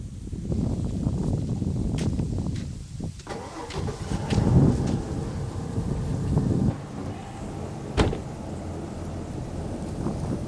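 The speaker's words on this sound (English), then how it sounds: "It's so windy." Strong wind blows across an open outdoor spot where alligator snares are being set, giving a steady, loud low rumble with gusty swells throughout and no clear speech.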